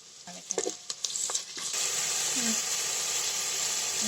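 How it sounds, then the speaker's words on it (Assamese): A few clinks and scrapes, then a loud, steady sizzle as ginger paste hits hot oil with fried onions in a pan and keeps frying with an even hiss. "এতিয়া আদা পেষ্টখিনি দি অলপমান আদা পেষ্টখিনি মই ভাজি ল'ম।"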